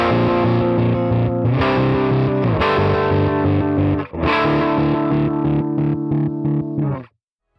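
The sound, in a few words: harmonic tremolo pedal effect with square waveform, CorOS 3.1.0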